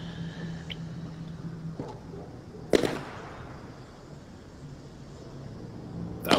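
Two sharp gunshot cracks ring out in the VR game The Walking Dead: Saints and Sinners, one midway and one at the end, with a few fainter pops earlier over a low steady background hum.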